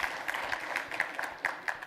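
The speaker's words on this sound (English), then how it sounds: "Those applause are for the marketing team, right?" An indoor conference audience claps steadily after a commercial is shown, a dense, even patter of many hands at moderate distance, lasting throughout.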